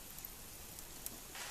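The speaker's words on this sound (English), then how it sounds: "As you can tell, the rain has started." Rain falls in the wilderness beside a campfire, making a soft, steady, faint hiss of drops with a few light taps, and no one speaks.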